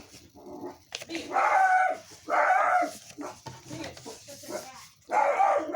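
A dog barks repeatedly nearby in loud, sharp bursts, several barks spaced irregularly with brief whines between them.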